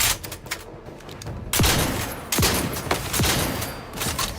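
Repeated loud gunshots in the video game The Outer Worlds crack out in an uneven volley, close and sharp with whooshing tails, over a dense layer of combat noise.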